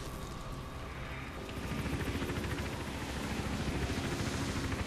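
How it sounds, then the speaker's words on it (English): A helicopter hovers overhead in the video game Hitman Absolution, its rotor chopping in a loud, steady low pulse that swells slightly as it continues, with no talking. "helicopter is right above here"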